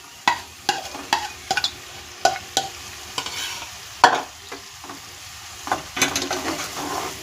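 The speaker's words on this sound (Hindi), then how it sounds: "आलू डालने के बाद इसे अच्छी तरह से मिला लेंगे।" Spiced mashed potato filling for aloo samosa is stirred in a hot pan, a steady sizzle broken by a dozen sharp scraping strokes of the spoon at an uneven pace, close and clear with no talking.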